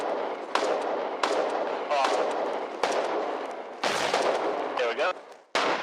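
Artillery shots fired at a bridge in a war video game, several loud booming blasts with rumbling tails in a row, while a voice speaks briefly between them.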